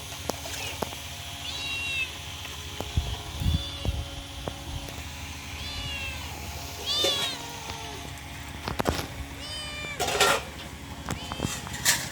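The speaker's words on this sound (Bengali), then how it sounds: "এই যে বিলাই" A cat meows repeatedly in a series of short, rising calls spaced across the stretch, fairly close, with background noise and occasional knocks between them.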